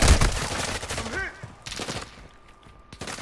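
Bursts of rapid gunfire from shooting in a video game, several sharp volleys in quick succession with gaps between, loud up front and fading toward the end.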